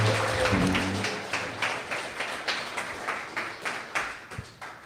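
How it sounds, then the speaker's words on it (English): An audience applauds a speaker at a developer meetup, a dense round of clapping that thins out into a few scattered, rhythmic claps before dying away. "let's give Siobhan a round of applause"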